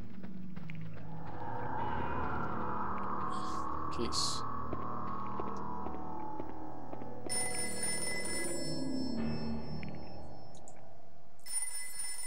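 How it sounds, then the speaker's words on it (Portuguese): An old-model telephone rings inside the video game Haunting Ground, a loud sustained bell ring heard over low game ambience and a resonant drone, with sharp metallic bursts near the end. "Telefone. Modelinho antigo, né?"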